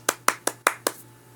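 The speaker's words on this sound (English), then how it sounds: "Applaud yourself." Hands clap five times in an even rhythm, each clap crisp and close before fading, leaving a short silence after the last one.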